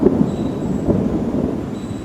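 Thunder from an approaching storm rumbles low and continuous outdoors in a yard, a loud rolling drone with no distinct claps.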